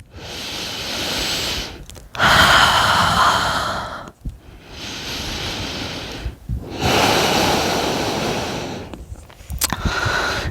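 Slow, deep breaths drawn in and released during a seated twist in a prenatal yoga class, three long airy cycles with brief pauses between, close and loud with no speech.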